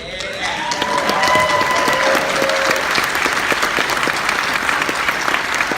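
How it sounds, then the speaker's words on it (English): A convention panel audience at RTX Austin 2018 breaks into loud, sustained applause with a few cheers and whoops at the start, the clapping dense and steady throughout. "We just get a quick round of applause for Joe for the finale."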